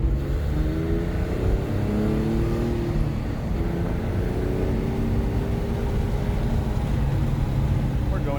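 A Porsche 997 Gemballa Avalanche tribute accelerates hard on the road, its engine a steady loud drone with rising pitch sweeps over thick, constant road and wind noise heard from inside the car.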